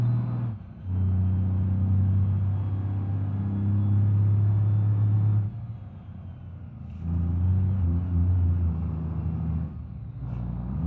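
A heavy truck in the BeamNG.drive video game driving in low range, its engine a loud steady droning rumble that dips briefly as gears shift, then climbs back under load, close and continuous throughout.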